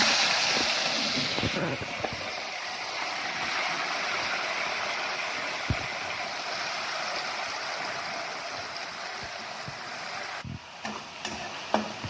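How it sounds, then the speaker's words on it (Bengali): Shrimp marinated in salt and turmeric frying in hot oil, a loud, continuous hissing sizzle that holds steady throughout with a few soft clinks and knocks, no voices. "তো চিংড়ি মাছটা অলরেডি ভাজতে আরম্ভ করে দিয়েছিলাম আগেই।"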